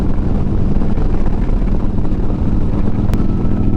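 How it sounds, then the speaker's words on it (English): Heavy wind rushes past the microphone while riding a built 2009 Harley Road Glide behind its fairing, a loud, steady, blustery roar mixed with the low drone of the motorcycle engine. "Hopefully the wind noise will be a little chill."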